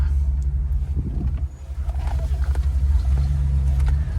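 A 1991 Cadillac Brougham engine idling while warming up, a steady low rumble close by with slight fluctuations and a brief dip midway, no speech over it.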